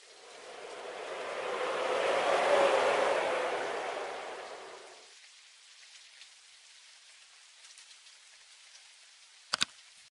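A burst of rain hisses steadily for several seconds, then stops abruptly, leaving quiet with a sharp click near the end.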